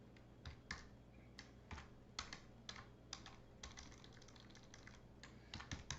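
Typing on a computer keyboard while writing a quick email, a quiet, steady run of close clicking keystrokes in irregular bursts with no talking.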